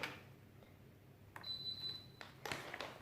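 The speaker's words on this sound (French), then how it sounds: "Le four est en train de sonner" An oven's electronic beeper sounds faintly in a quiet kitchen, giving a short, thin tone followed by a few soft clicks and knocks nearby.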